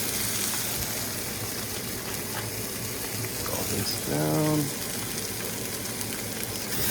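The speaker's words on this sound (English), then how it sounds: "you know it's ready if you're gonna put this down, it's gonna sizzle" Chicken thighs laid skin-side down in a hot pan give off a steady, even sizzle throughout, while a voice speaks briefly over the frying.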